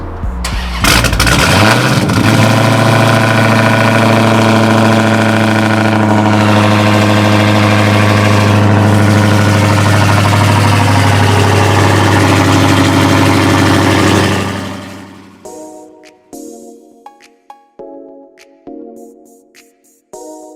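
A Ford Mustang engine running on E85 cranks and catches on a cold start, then settles into a loud, steady idle for several seconds before cutting off, followed by quieter clicks and knocks.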